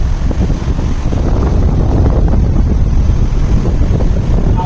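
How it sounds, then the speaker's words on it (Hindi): An air cooler running off a batteryless inverter produces a continuous, loud broadband whoosh of fan airflow and rumble, steady from start to finish with no voices. "तो आपको कूलर चलाकर भी बतला देता हूँ।"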